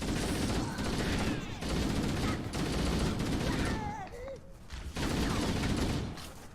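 Dense bursts of gunfire from Halo: Combat Evolved Anniversary clatter in long volleys, broken by short pauses and a few whooshing effects, with a voice talking underneath.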